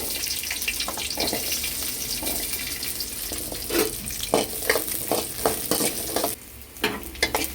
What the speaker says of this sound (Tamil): இப்போ எண்ணெய் சட்டி ஹீட் ஆகிடுச்சு, எண்ணெய் ஊற்றிக்கலாம். இப்போ வந்து வெங்காயம் சேர்த்துக்கலாம்.